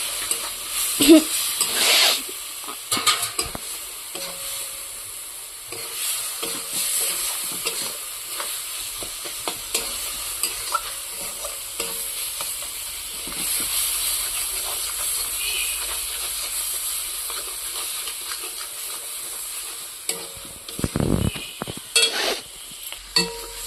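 Spice paste fries in a pan with a splash of water, hissing and sizzling steadily over a long stretch, broken by occasional scrapes and knocks of a spoon against the pan.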